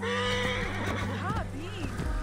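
A horse whinnies loudly with a rising and falling neigh in Assassin's Creed Origins, over the game's background score and a voice speaking.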